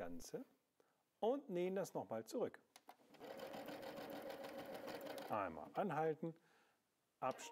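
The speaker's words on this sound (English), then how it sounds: "Let's move the needle down, lift the foot and sew the seam back again." A W6 N 5000 Exklusive sewing machine runs for about two seconds, stitching a seam in reverse with a steady, rapid mechanical whir. Close speech comes before and after the run.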